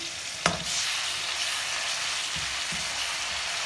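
Onions and masala sizzle steadily in the oil left over from frying karela for bharwa karela, a loud close hiss with a sharp stir or clatter near the start and soft scraping later.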